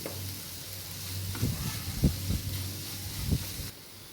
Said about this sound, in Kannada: ಸಣ್ಣ ಫ್ಲೇಮಲ್ಲಿ ಇದನ್ನು ಫ್ರೈ ಮಾಡ್ಕೋಬೇಕು